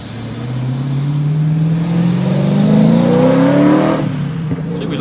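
Race car at Le Mans, at the Tertre Rouge corner, with a loud engine note that climbs steadily in pitch as it accelerates for about four seconds, then cuts off abruptly, with no talk.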